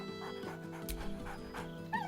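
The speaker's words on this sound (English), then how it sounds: "barks merrily in something like agreement." A dog yips and barks in the Baldur's Gate 3 video game, a few short bright calls over a sustained musical score with steady tones underneath.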